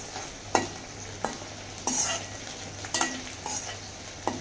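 Fenugreek frying in a pan for fish curry, a soft steady sizzle broken by a spoon scraping and stirring about every half second, with no talk.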